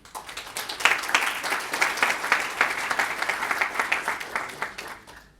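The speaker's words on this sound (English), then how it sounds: "give a big thanks and a round of applause to our sponsors" An audience at a DevOps tech conference applauding its sponsors, a dense, steady round of clapping that swells quickly, holds strong for several seconds and tapers off at the end.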